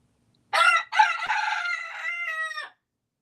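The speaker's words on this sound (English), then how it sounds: "You see, the rooster," A rooster crows loud and close, one full cock-a-doodle-doo lasting about two seconds with a brief break after the first syllable, alone against silence.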